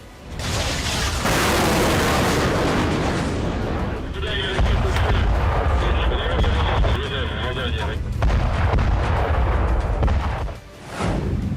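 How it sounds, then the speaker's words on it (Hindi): A 3M54 Kalibr missile fired from a naval ship in the Black Sea gives a loud, sustained roaring blast that rumbles on for several seconds before dipping and surging again. "काला सागर में नेवल शिप से दागी गई 3M54 कैलिबर मिसाइल"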